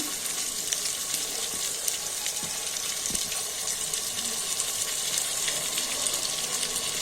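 Onions frying in a pan and turning reddish, a dense, steady sizzle like a hiss that holds evenly throughout, close and fairly loud, with a few faint knocks.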